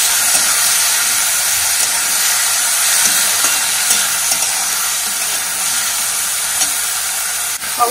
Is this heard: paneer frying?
yes